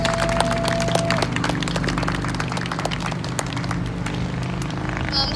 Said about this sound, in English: Let's give her a warm round of applause as she comes before us.